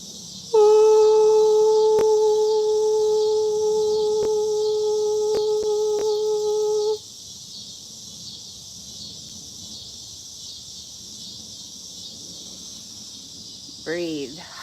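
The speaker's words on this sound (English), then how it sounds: "listen to the cicadas." Cicadas buzzing outdoors, a continuous high shimmering drone sitting far in the background the whole time, while a steady tonal hum plays for the first several seconds and then cuts off.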